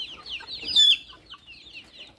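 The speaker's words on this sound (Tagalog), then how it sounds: "Ito mga manok na." Chickens at a highland resort farm in Camiguin, a few soft clucks and one short higher call, close and fairly quiet over a calm background.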